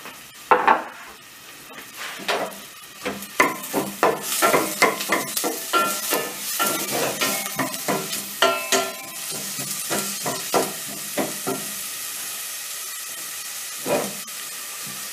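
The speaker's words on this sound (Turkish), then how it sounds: "Ondan sonra doğradığımız biber ve soğanı tenceremize boşaltalım." Chopped peppers and onions sizzle and fry in a pot while being stirred, a busy crackling hiss with frequent scraping stir strokes that ease into a steadier, quieter sizzle toward the end.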